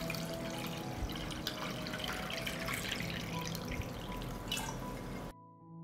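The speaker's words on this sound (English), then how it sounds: "I pour water into the pot up to the height of the lid." Water pours steadily from a tap into a pot filled with glass jars, a continuous splashing and trickling with dripping detail that runs nearly six seconds before stopping abruptly.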